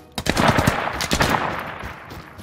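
A player's automatic gunfire in a tactical shooter game: a rapid burst of sharp, close shots, a short pause, then another quick volley that trails off into reverberation.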